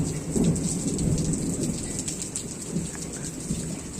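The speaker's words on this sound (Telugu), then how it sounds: "చూడండి ఎంత భయంకరంగా కురుస్తుందో." A torrential downpour roars loudly and steadily, with thunder rumbling underneath the dense rain hiss throughout, heard close and without any talk.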